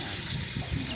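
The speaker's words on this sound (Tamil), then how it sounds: "தண்ணி இருக்குதா ஊற்றணும்" A short burst of water splashing and trickling, poured into a pot while cooking chicken biryani, steady and close.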